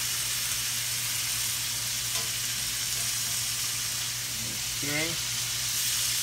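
Flounder sautés in a hot pan with a steady, loud, hissing sizzle throughout, accompanied by a low steady hum, while someone speaks briefly near the end.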